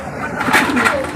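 A racing pigeon's soft, low cooing, brief and close, rising and falling over a second with faint background noise.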